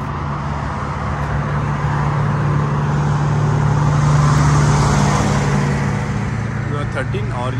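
Steady traffic noise from a main road beside a used car lot, a broad continuous rumble of passing vehicles that swells slightly midway and stays fairly close and loud throughout.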